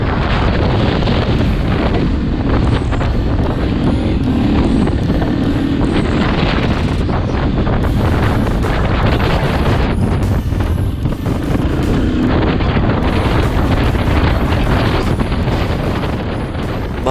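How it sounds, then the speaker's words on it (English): Strong gusting wind howling past the microphone on an exposed island road on Durville Island in the Marlborough Sounds, a loud continuous roar with rising and falling gusts for the whole stretch, no voices. "As you can hear, it is absolutely howling."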